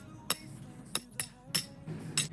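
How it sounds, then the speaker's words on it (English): A hammer strikes tent stakes into the ground for a party tent setup, five sharp metallic taps at uneven intervals, close and distinct over a quiet background. "let's tap the stakes"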